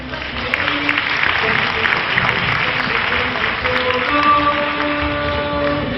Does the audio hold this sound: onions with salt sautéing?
no